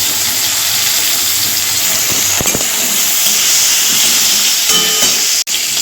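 Black cumin, chopped tomato and green chillies sizzle in a little hot oil in a pan, giving a steady, loud hiss close by with a few faint clinks and a brief break near the end.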